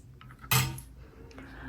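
Ready meals are tipped from their packaging onto plates, with a sharp clatter of cutlery and dishware up close followed by softer scraping and light clinks.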